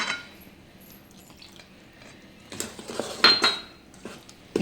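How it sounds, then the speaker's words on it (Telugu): Milk bun dough mixed in a bowl with a ladle: quiet scraping gives way to louder clinks and knocks of metal against the bowl in the second half. "ఇప్పుడు ఇది ఒకసారి ఇలా గరిటెతో కలిపేసుకుందాం ముందు"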